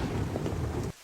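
Rain pours down during a stormy night thunderstorm, a loud continuous rumble of thunder and rainfall that cuts off abruptly near the end.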